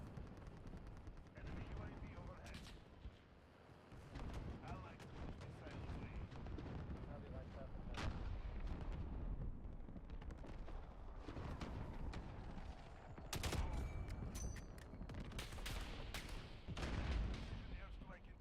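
Gunship gunfire in a video game rumbles as dense, continuous bursts of shooting and blasts through the whole stretch, loud and chaotic, with a player talking over it.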